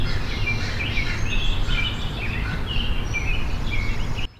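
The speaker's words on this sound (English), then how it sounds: "the birds are chirping" Birds chirp and twitter continuously in the background over a steady low outdoor rumble, with short high calls repeating throughout.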